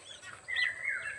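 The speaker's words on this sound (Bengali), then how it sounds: "কিচিরমিচির আওয়াজ হচ্ছে পাখির" Several birds chirp and trill in a sunny rural morning beside a paddy field, with bright overlapping calls rising and falling at moderate distance and no voices present.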